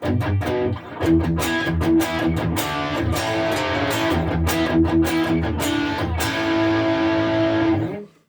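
Electric guitar played through a Thorpy FX The Dane overdrive pedal, crunchy distorted chords and picked notes strummed in a steady rhythm, close and loud, ending with a ringing fade.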